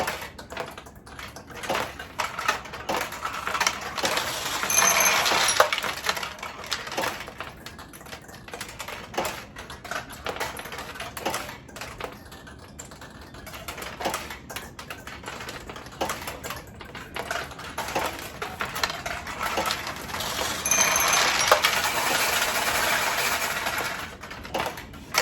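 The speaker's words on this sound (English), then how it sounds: "So we'll launch some balls here." A 1971 Nishijin Model A recycler pachinko machine with a plexiglass front, launching balls in a rapid continuous clatter of steel balls rattling and ticking through the playfield, steady and close throughout with a couple of louder swells.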